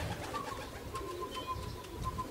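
Homing pigeons arriving at a loft during a racing pigeon return, with repeated soft coos and wingbeat flutters close by, plus faint chirps and a light outdoor background.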